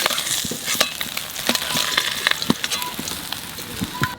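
Oil sizzling and frying in a pan while cooking a Bengali taro and tengra fish dish, with a steady hiss and scattered crackles and pops throughout, fairly close and continuous.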